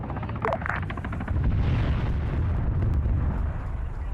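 Artillery explosion in a military video game, a loud deep rumbling boom that rolls on for several seconds at close range without letting up.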